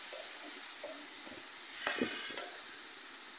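Green chili, ginger and cumin paste sizzles steadily in a hot pan for jackfruit curry, with a soft stir and a couple of light utensil taps against the pan near the middle.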